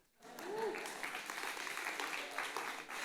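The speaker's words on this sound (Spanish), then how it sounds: "Denle un aplauso a mi esposa" A church congregation applauds the preacher's wife during a sermon on Romans, with a burst of clapping that swells quickly and holds steady for a few seconds in a reverberant room.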